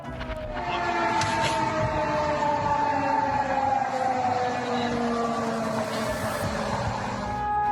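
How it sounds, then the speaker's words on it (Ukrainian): Air raid sirens in eastern Poland wail steadily, their rising and falling tones layered and echoing over a wide area, loud and continuous without any talking. "А так виють сирени у східній Польщі."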